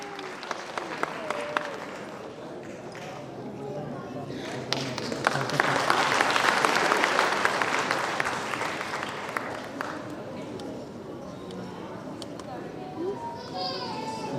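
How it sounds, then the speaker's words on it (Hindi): Applause rises from an audience at an award ceremony in Varanasi, building to a dense burst of clapping midway and then tapering off, with scattered voices and chatter around it. "उनका भी जोरदार तालियों से स्वागत"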